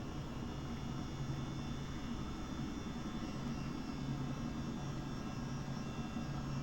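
A Chinook helicopter in Microsoft Flight Simulator, flown in stormy weather, drones with a constant, even rotor-and-engine roar that holds the same loudness throughout, with no talking.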